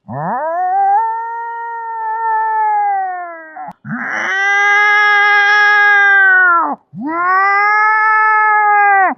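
A human voice imitates fighting cats, with three long, loud, wailing caterwauls that rise, hold and drop off, separated by short gaps.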